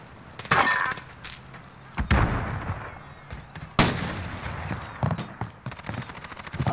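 Gunfire and explosions in a first-person shooter video game, search-and-destroy mode: scattered sharp shots and bursts with glassy breaking impacts at irregular intervals, mid-distance and moderately loud, without talk.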